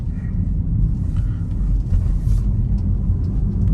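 A Tesla car drives along the road, heard from inside the cabin as a steady low road rumble with little else on top.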